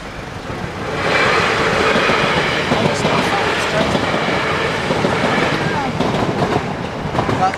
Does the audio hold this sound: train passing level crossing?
yes